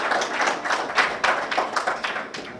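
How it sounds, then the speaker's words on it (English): Applause from a seated audience at a technical standards meeting on geographic information, a steady patter of many hands clapping at moderate volume. "give a big round of applause to Alan"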